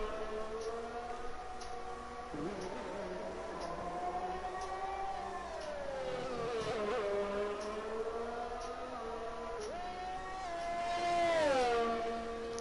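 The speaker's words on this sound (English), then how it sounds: "The roar of the engines here" Racing car engines roar in a PlayStation racing game on a hilly Belgian circuit in the Ardennes forest. Whining engine tones rise and fall through gear changes and pass by one after another, with one engine swelling louder near the end.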